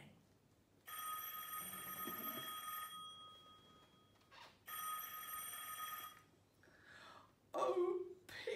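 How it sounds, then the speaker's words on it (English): An old-style telephone bell rings in two long bursts separated by a short pause, fairly quiet and alone, followed by a faint rustle. "the phone rang"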